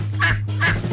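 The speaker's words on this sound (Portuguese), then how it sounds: "As fêmeas da maioria das espécies de patos brincalhões fazem o barulho." A duck quacks twice in quick succession, loud and close, over a steady low hum.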